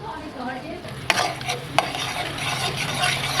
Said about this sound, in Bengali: মশলাটা ভালো মতন কষুক